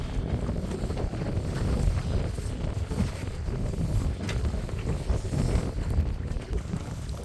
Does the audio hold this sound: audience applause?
no